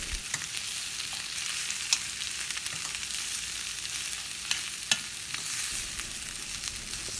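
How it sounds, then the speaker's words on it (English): Potato masala with onion being stirred and mashed in a hot pan, a steady frying hiss under repeated spatula scrapes and occasional sharper taps, close and without talk. "Mix the potato with onion and other ingredients."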